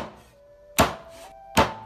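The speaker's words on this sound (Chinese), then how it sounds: "先洗净剁成块" A cleaver chops through half a duck on a cutting board, two sharp, loud thunks spaced about a second apart over a quiet room.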